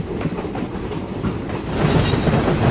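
Train wheels clatter along rails on the Visakhapatnam route in Trainz Simulator, a steady rolling rumble with rhythmic clicks that grows louder and harsher toward the end.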